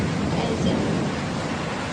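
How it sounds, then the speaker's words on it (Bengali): Dense, steady rain hisses close by with a low thunderous rumble beneath it, constant throughout with no clear breaks. "প্রচুর বাজ পড়ছে আর বাইরে ঝড় বৃষ্টি দুটোই হচ্ছে একসঙ্গে"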